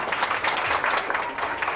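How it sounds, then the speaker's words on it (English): Audience applause at a 1989 Miss Duncan-Lyman-Wellford pageant, continuous scattered clapping from a crowd, moderately loud and even across the clip. "And you all can applaud anytime you want to."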